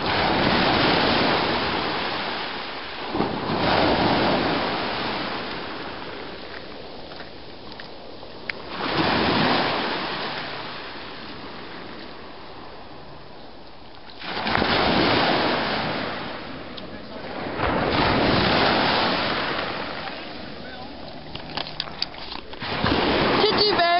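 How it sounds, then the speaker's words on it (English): Ocean waves roll in at the shore of a nature park, several big surges swelling and crashing then washing back, with wind buffeting the microphone and people talking between them. "I think the tide's coming in. Oh, there's a big one coming."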